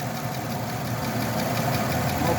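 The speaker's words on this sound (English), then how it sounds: "with the motor running" The engine of a 2018 Nissan Rogue idles steadily, a constant close hum and rumble with an even, faint ticking texture throughout.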